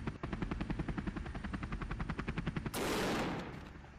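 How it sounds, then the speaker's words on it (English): A video game helicopter loses its rotor: rapid rhythmic rotor chopping with gunfire-like bursts, then a sudden loud broadband roar and whoosh as the rotor tears away, fading slightly at the end. "the helicopter just lost its rotor, if you can hear that"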